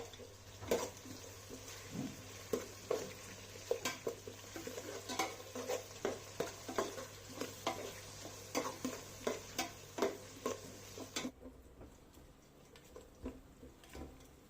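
Onions frying in oil for mutton biryani, stirred with a spoon that scrapes the pan in a regular rhythm of distinct strokes over a soft sizzle, ending in near quiet.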